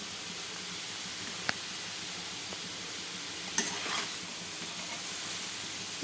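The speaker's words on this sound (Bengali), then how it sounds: "এইভাবে ভেজে নেব চাউমিনটা" Chowmein noodles frying in a pan give a steady, faint sizzle with occasional soft clicks and stirring knocks, with no speech.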